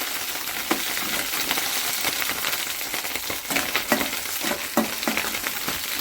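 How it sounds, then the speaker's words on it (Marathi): Potatoes frying in hot ghee make a dense, continuous sizzle, close and fairly loud, broken by occasional stirring clatters and scrapes in the pan. "डायरेक्ट तुपामध्ये बटाटे टाकले"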